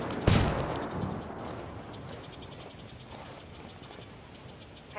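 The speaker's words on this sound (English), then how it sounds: "Throwing a flashbang." A flashbang grenade thrown in Ghost Recon Wildlands goes off as one sharp, loud burst, then a long, hissing ringing tail that fades slowly.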